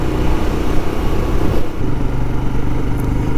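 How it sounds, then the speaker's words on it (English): Royal Enfield Scram 411 motorcycle with a quiet Euro 5 exhaust, a steady mid-pitched engine drone heard while riding, fairly loud and even with a slight dip partway, no talk. "So this is a Euro 5 bike, so it's got the volume turned down to about 6 to meet the emissions regulations"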